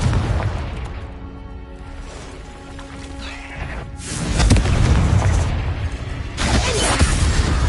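Spell explosions from Confringo and Bombarda burst repeatedly in Hogwarts Legacy, loud booming blasts that swell and crash in quick succession, with a horse-like whinny heard early on.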